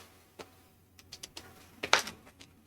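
Cards for the Welcome to the Moon board game are shuffled at a table: sparse, quiet clicks and taps, then a short sharper riffle burst near the end, with no talking.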